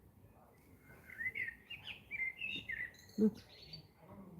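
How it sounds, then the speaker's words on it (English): A blackbird singing outdoors, a string of faint, clear whistled phrases and chirps at moderate distance, with a brief word spoken and a quiet voice and background noise beneath. "I think it's called blackbird."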